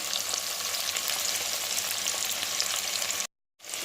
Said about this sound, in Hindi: और इसे फिर 3 से 4 मिनट के लिए करना है फ्राई